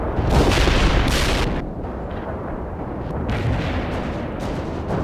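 Heavy artillery strike in the World in Conflict game, loud booming explosions landing one after another with rumbling blasts and debris, the heaviest bursts early, then continued thuds and crackling impacts.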